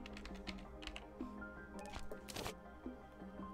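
Keys clack on a computer keyboard in quick irregular bursts, close to the mic but set somewhat behind it, mixed with steady tones of game music.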